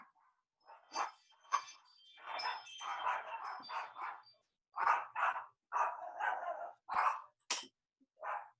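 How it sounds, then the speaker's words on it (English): A dog barks repeatedly at a distance from the microphone, in short bursts with uneven gaps, some yips and whimpering sounds mixed in, alone without talk. "I'm feeling like Michael's dog agrees with me here."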